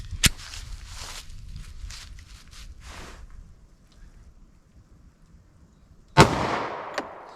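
A 9mm pistol with a 3.3 inch barrel fires Federal Syntech ammunition, giving one sharp, loud shot near the start and another near the end, with a quieter crack just after it and soft shuffling and handling noise in between.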